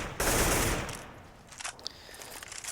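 Rapid automatic gunfire in the Counter-Strike video game during an ESL UK Premiership match, a loud dense burst at the start that fades into scattered quieter shots.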